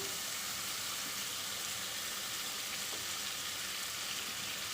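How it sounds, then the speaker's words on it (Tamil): Masala paste sautéing in a pan for prawn biryani makes a loud, unbroken frying hiss that holds steady throughout without speech. "இப்போ நம்ம இந்த பேஸ்ட்டு போட்டு நல்லா வதக்கியாச்சு"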